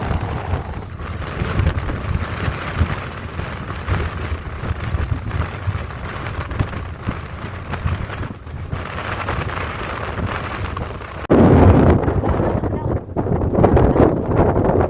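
Strong wind at a windmill site buffets the microphone in a steady, roaring rush with low rumbling gusts, growing louder and harsher near the end.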